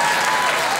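Audience clapping in a short, loud burst of dense applause with no voices.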